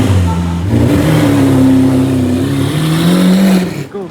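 A car engine revs hard at a car meet drag race, a loud, close, sustained roar that climbs in pitch for about four seconds before cutting off.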